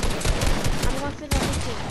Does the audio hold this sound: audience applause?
no